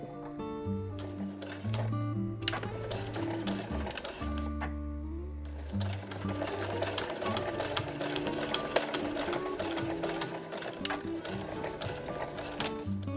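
A sewing machine runs steadily while stitching the seams of a fur tote bag with a switched bottom panel, a close, continuous mechanical whir with brief pauses and restarts, and no talking over it.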